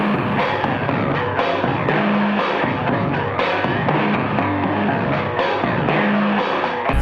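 A Harley-Davidson motorcycle fitted with short, very loud exhaust pipes idles and revs at a Harley Days event in Prague, a continuous close, rough engine rumble with throttle blips throughout.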